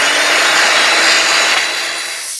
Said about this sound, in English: I roll it over and then I go into the kerf and continue the saw and continue all the way around